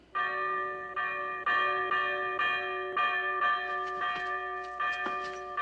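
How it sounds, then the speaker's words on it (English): A small bell hung above a door rings over and over in a steady string of bright metallic strikes, each one ringing out and overlapping the next, close and fairly loud with no talking. "The bell above the door outside."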